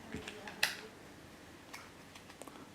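Thin plastic model aircraft parts from an Aeronautica Imperialis Dakkajet kit give a few faint, crisp clicks as they pop off the sprue, one louder than the rest, in a quiet room.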